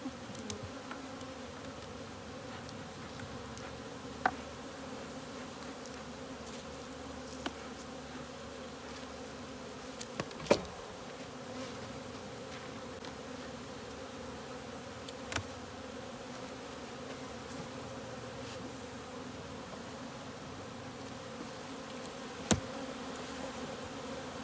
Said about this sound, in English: We use the smoke to kind of get the bees to calm down while we're looking at them.